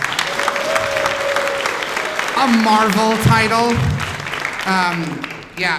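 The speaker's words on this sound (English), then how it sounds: "everyone clap for Gru the Wanderer." Convention audience at New York Comic Con clapping for a comic title, a dense, loud burst of applause filling the room beneath someone speaking over it.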